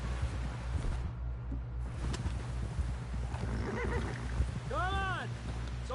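A horse carrying a rider named John moves along, its hooves clopping in a steady rhythm, and a sharp whinny rises near the end while voices talk over it.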